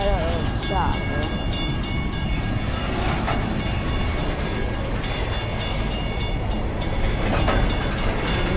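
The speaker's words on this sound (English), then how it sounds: "Train is just kinda down there." An empty BNSF coal train rolls slowly past at a distance, giving a continuous broadband rumble with light wheel clatter and metallic clicks throughout.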